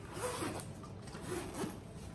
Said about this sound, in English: So it's got, the double zippers here.